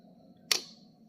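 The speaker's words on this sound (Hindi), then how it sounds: "ये जो आवाज़ आ रही है ये प्लंजर की आवाज़ है" A box-type voltage relay's plunger gives one sharp, close mechanical click as supply is applied. It stands alone over a faint steady electrical hum.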